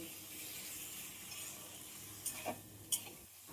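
Masala spices and garlic frying in a pan give a low, steady sizzle, with a few faint clinks of a utensil stirring toward the end.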